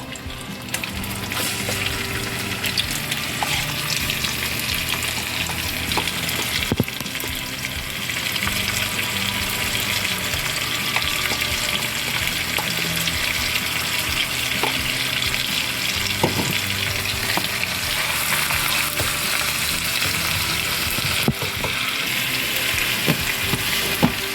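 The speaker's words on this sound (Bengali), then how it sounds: "রসুন আর কাঁচামরিচ কুচি, এটা আমি দিয়ে দিলাম।" Chopped garlic and green chilies sizzle steadily in butter in a pan, a dense, continuous frying hiss with a few soft clinks of stirring, close and fairly loud throughout, no talking.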